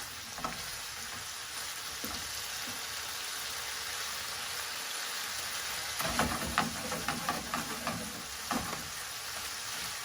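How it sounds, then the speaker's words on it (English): San Choy Bow filling sizzles steadily in a pan as its last bit of liquid cooks down, with a few light stirring scrapes and clatters in the second half; no one speaks. "I'm going to cook this for just another minute. There's still a tiny little bit of liquid in it that I want to try and reduce"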